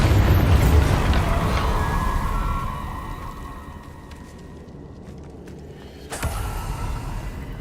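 A Bombarda spell blast in Hogwarts Legacy: a loud, rumbling explosion fades over several seconds, then a second sharp burst hits near the end.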